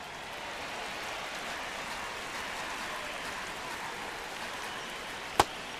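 Steady rain hisses over a ballpark in MLB The Show 26 during a Blue Jays at Tigers game, a broad even wash filling the whole stretch, with one sharp click near the end.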